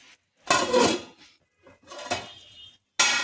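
A metal lid lifted off a pan of eggs cooking on a low gas flame, a few clattering clanks and scrapes in separate bursts, close and fairly loud.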